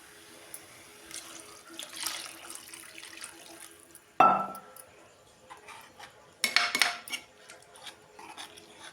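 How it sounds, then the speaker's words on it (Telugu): Water runs and splashes into a metal pot in bursts, with a sharp clank of cookware partway through and occasional clinks, no speech. "ఇప్పుడైతే వాటర్ అయితే పోసుకుంటున్నాను."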